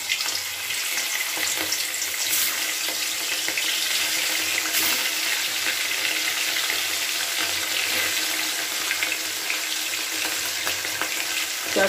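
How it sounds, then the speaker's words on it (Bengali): Pieces of rohu fish fry one by one in smoking-hot oil for a Bengali fish curry, giving a loud, steady, dense sizzle that stays constant from start to finish, close up and with no voices. "এবার আমি মাছগুলোকে একে একে ভেজে নিচ্ছি"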